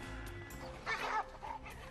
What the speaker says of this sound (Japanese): 地球上の至る所に人間社会の周辺で生きている野犬がいます。